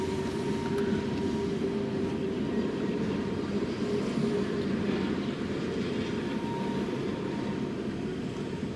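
A long train rumbling past, a steady broad roar with a faint tonal whine, continuous and fairly distant, with no voices.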